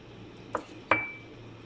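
Two eggs added to a mixing bowl, heard as two quick, faint clinks against the bowl about a third of a second apart, over quiet room tone.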